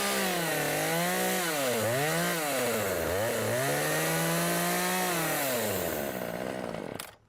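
A power saw trims a deck board along a marked line, one continuous loud whining cut whose pitch dips and rises as the blade loads, then stops abruptly at the end, with no voices.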